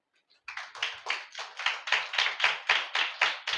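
A congregation at a Holy Communion service clapping hands together in a steady rhythmic beat, about a dozen even claps in quick succession, loud and close after a brief quiet start.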